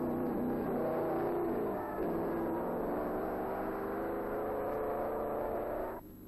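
A 1930s Mercedes race car driven by Caracciola rounds the Carousel at the German Grand Prix, its engine a sustained, whining roar shifting in pitch through the bend before dropping away at the end.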